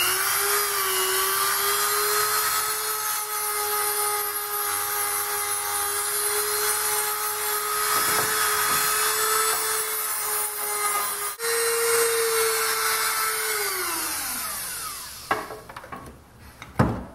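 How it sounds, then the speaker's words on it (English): A handheld Dremel-type rotary tool grinds markings off a bandsaw's metal casting with a steady, close, high-pitched whine, then spins down with a falling pitch near the end. "I'm just using a Dremel type tool to grind off the markings."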